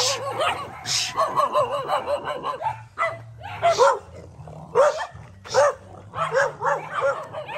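Several dogs bark repeatedly in bursts, fairly close, with a low steady hum underneath and no talking.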